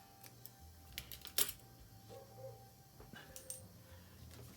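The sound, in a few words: scissors cutting excess thread on a mini book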